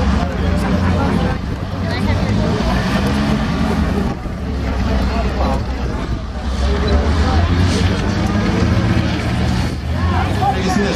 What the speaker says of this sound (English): Vehicles leaving the field.